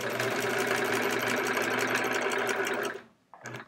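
A sewing machine stitches the binding onto a Splendid Sampler quilt, a steady, close mechanical whir running without pause for about three seconds before cutting off, followed by a short muffled bump.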